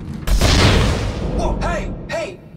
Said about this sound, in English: Oh, she's shooting at us.